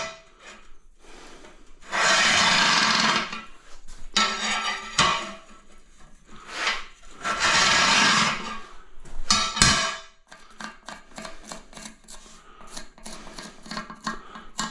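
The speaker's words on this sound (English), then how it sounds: "I'll show you how I cut these with a 4-inch grinder" A 4-inch angle grinder cuts a round hole in tile, giving two loud, harsh bursts of abrasive grinding a few seconds apart. Quieter scraping and rubbing sounds fall between and after the bursts.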